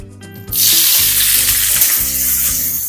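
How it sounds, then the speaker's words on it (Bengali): Onions hitting hot oil for a tempering, a sudden loud burst of sizzling that starts after a brief quiet moment and holds steady and close, with faint background hum under it. "দেখো পেঁয়াজ ফোড়ন"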